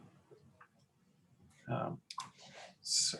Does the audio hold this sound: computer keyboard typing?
yes